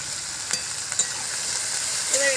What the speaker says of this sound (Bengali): এবার এটা নাড়াচাড়া করে ভালো করে ভেজে নেব।